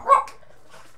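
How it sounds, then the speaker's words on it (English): A dog gives a single sharp, fairly close bark, followed by a faint whimper or yip and then near silence. "Sorry about the dogs, guys."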